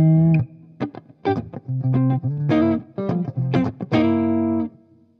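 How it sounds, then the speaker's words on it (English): Semi-overdriven electric guitar lead tone through a PRS 30 amplifier: a phrase of loud picked single notes and short bends with clear sustain and a touch of ambience, played alone. "semi-overdriven lead tones you're looking for."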